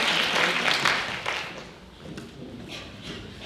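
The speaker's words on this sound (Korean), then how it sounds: "박수로 환영해 주시면 감사하겠습니다." An audience at a university admissions information session claps to welcome the admissions officer, a moderate burst of applause that fades after a second or two, then a few scattered claps and light room noise.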